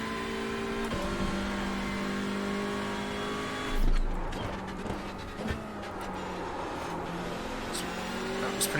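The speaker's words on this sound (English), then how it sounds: "I'll rev out every gear as best as possible." A Hyundai race car in the sim game iRacing, an IMSA class car at Okayama, revs hard through the gears, its engine note climbing and dropping with each shift and a brief burst of louder noise partway through.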